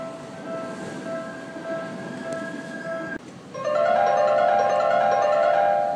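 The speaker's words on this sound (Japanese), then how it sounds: "まもなく7番ホームに電車が参ります。" A train pulling into the platform at Seibu Haijima Station: a steady tonal hum gives way to a louder rising whine and rumble as it comes in close, with no talk.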